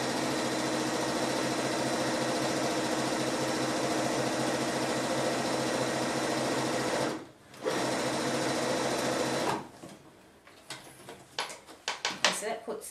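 A sewing machine stitching quilt seams runs at a steady, loud whirring hum for about seven seconds, pauses briefly, then resumes before slowing into a few short stop-start bursts and clicks near the end.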